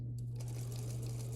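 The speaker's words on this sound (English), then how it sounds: "now we're going to top stitch all the way around there" A sewing machine top-stitches a shirt, a steady, fast, close mechanical whir with a low constant hum and a faint rhythmic clatter.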